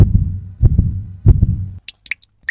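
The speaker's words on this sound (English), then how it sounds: "her heart beating a little faster" Heartbeat effect in a narrated story: paired low thumps repeat steadily three times, close and prominent, then stop and give way to brief quiet clicks.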